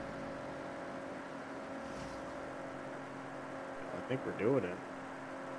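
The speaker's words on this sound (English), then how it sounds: "It's ever so slightly revving down, and I'm like trying to keep it even." A car engine in the Forza racing game hums at a faint, steady pitch while it slowly revs down. A voice speaks briefly near the end over the low drone.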